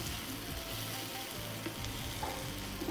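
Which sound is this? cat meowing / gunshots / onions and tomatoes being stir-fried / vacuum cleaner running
onions and tomatoes being stir-fried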